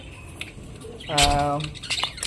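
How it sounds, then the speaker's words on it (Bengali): A pied budgerigar kept with its chick gives one sharp, buzzy squawk lasting about half a second, close and clear, followed by faint chirps and small clicks. "কত সুন্দর আমার পাইট বাজিকার পাখি দেখো বাচ্চা তুলেছে"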